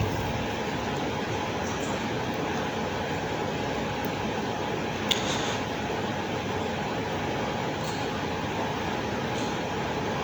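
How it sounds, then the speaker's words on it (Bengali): Steady, loud rolling rumble from inside a moving passenger train bound for Dhaka, Bangladesh, continuous throughout with a brief faint click midway and no voices. "ট্রেন থেকেই এখনও আমি ভিডিও করছি"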